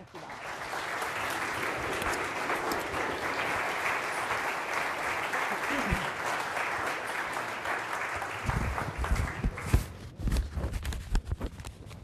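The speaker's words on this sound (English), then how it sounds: "please join me in a round of applause" Sustained audience applause following a lecture introduction at an architecture school, steady dense clapping that thins into scattered claps, footsteps and movement near the end.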